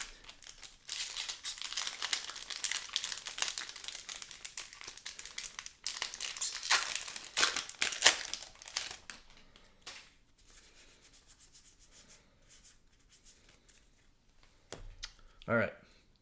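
Crinkly foil wrapper of a Magic: The Gathering Edge of Eternities collector booster pack being torn and rustled open close up, a long busy crackling stretch, then quieter handling and a short final crinkle burst.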